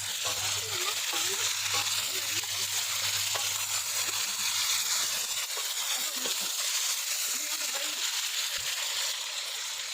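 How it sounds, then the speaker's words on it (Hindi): Chicken pieces fry and sizzle in a karahi for a charsi karahi, with a spoon stirring and scraping through them. The hiss stays steady and close, and a low hum fades out partway through. "गोल्डन ब्राउन होने तक चिकन को अच्छी तरह भूनते रहेंगे और साथ साथ चम्मच भी हिलाते रहेंगे"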